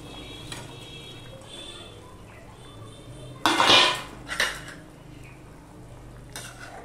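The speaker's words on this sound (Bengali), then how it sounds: "ঝোলটা ফুটে গেলে এই ধোকা ভাজাগুলো আমি দিয়ে দিচ্ছি।" Fried papaya dhoka fritters drop into simmering gravy in a kitchen pot, giving a brief soft splash and clatter midway, followed by a lighter clink of utensils over a low, steady bubbling background.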